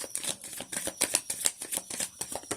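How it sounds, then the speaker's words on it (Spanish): Osho tarot cards are being shuffled by hand, a fast run of crisp riffling flicks repeating in an even rhythm, close and fairly loud, with no voice over them. "ahora vamos a barajar con el tarot de Osho las cartas"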